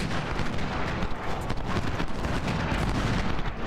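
Musket volleys crackle in the Ultimate General Civil War game at the Battle of Stones River, a dense, continuous roar of massed gunfire and booming artillery with no let-up, loud and close throughout.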